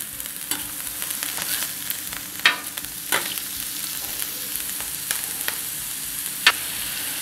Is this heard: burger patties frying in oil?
yes